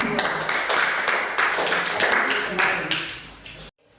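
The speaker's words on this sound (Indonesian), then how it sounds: "tepuk tangan dulu untuk kelompok" Students in a classroom applaud a group that has just finished presenting, a steady wash of clapping lasting several seconds before cutting off abruptly, with some voices mixed in.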